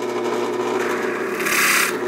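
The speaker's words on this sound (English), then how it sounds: "So we'll turn the drill on now." A Harbor Freight drill press bores into wood with a steady, close whirring grind that brightens into a harsher rasp near the end.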